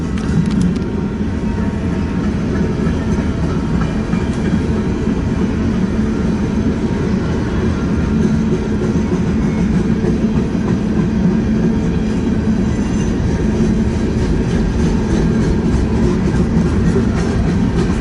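A CNW freight train rolls past on the rails beside the BNSF and Union Pacific diamond in western Fremont, a loud, steady rumble with rhythmic wheel clatter holding close and even throughout, no voices.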